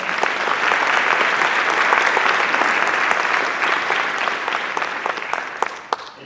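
An indoor audience at a community justice gathering gives dense, steady applause that stays strong, then slowly thins over several seconds, with a few last claps at the end.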